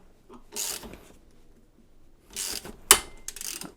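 A ratchet turns a 14 mm socket on a heavy-duty metal nut splitter working on a 5/16 nut. A few short clicking bursts come close up and separated by quiet gaps, with one sharp louder snap near the end.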